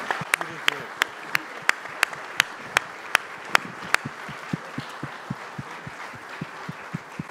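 A small conference audience gives a round of applause for four panelists: sparse, crisp individual claps in a regular rhythm that grow softer and slower toward the end.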